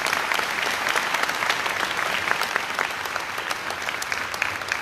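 A college scholarship ceremony audience claps steadily and densely all the way through, with no talking over it.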